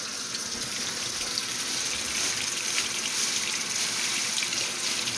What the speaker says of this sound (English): We're going to wash them off.